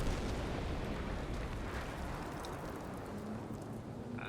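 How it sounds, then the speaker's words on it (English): Artillery shells rain down in the Cold War tactical game Combat Mission, a dense, continuous rumble of distant explosions that rolls on steadily with a few faint crackles and no voices. "plenty of arty coming in there"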